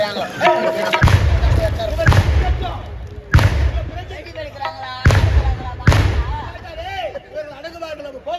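Several loud, sharp bangs burst out at irregular intervals over a crowd's background chatter and voices, each a sudden explosive crack.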